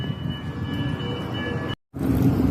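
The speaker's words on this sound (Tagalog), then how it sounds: "Pahaliin ang tren." A passing train rumbles loud and steady, a continuous broadband roar with humming wheel tones, cut by a brief gap of silence before the rolling noise resumes.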